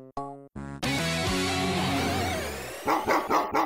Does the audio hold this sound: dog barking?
yes